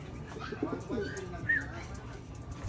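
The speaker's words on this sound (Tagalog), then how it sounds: "bagong labas mga kalapatids" Newly released pigeons make a few soft coos and faint calls close by, quiet and brief against low background rumble.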